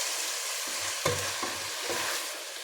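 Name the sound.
vegetables frying in a pan for vegetable soup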